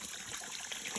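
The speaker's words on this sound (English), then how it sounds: "I have this pipe that's letting the water come" Creek water trickling steadily through a pipe in the woods, a soft continuous gushing wash that stays even and close throughout, with no voices.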